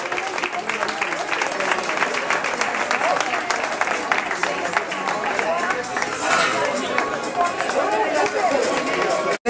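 Spectators at the Campi Qui Pugui 2008 race clapping for a runner during the awards, continuous dense applause with crowd murmur underneath, steady and moderately loud across the whole stretch.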